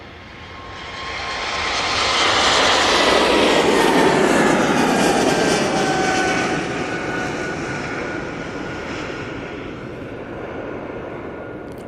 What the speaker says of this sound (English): I'm guessing this is the Air France A220 back off to Paris Charles de Gaulle Airport.